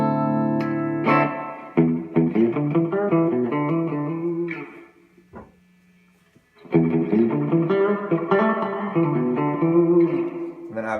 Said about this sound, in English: The last setting after plate and room is the spring style reverb.